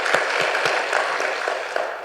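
Applause from a church congregation during a district devotional worship service, a steady wash of many hands clapping for about two seconds with a few sharper individual claps standing out.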